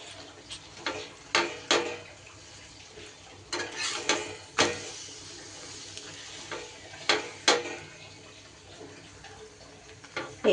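A pumpkin paratha made with refined flour fries in oil on a pan, giving a quiet, steady sizzle broken by sharp ticks and scrapes of a spatula at irregular intervals, with no talk.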